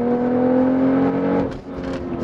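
BMW X3 M40i engine pulling hard out of a corner, a loud steady drone with strong harmonic tones that swells and then eases near the end.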